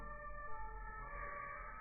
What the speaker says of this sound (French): il y a du bruit dans la rue là. Et les ambulances.